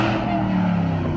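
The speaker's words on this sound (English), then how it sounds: "I wish my blower sounded like that. That thing sounds insane." A supercharged car engine runs close by with a steady, high blower whine riding over the deep engine drone throughout a short burst.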